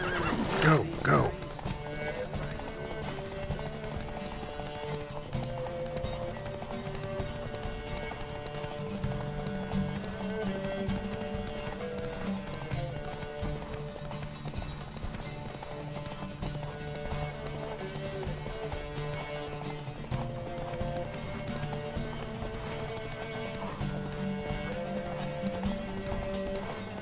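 Horses galloping in a race in The Witcher 3: Wild Hunt, with steady rapid hoofbeats, several neighs and whinnies, and a music bed running underneath throughout.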